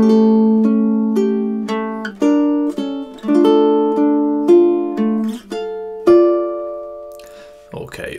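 Measure 9 of Mozart's Lacrimosa played on a ukulele: a short run of plucked notes and chords ringing out close and clear, ending with a longer sustained chord, then a brief rustle.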